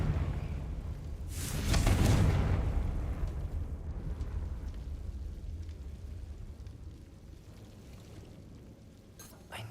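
A Confringo blasting spell explodes in Hogwarts Legacy, a deep rumbling boom that swells and then fades into a long, low roar, loud and close, with no talking during it.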